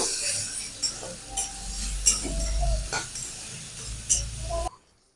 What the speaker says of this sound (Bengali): গ্যাস কমিয়ে আস্তে আস্তে নেড়ে চেড়ে নেব